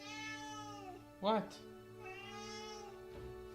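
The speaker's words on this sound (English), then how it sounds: "Why are you meowing?" A cat in a room gives one clear, fairly close meow in the middle, while a person talks over steady game cutscene music and dialogue.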